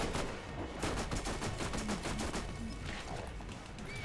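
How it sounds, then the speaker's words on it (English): Rapid SMG gunfire in the Borderlands video game, a dense continuous rattle of shots filling the whole stretch, loud and steady with no talk over it. "I have to use my SMG"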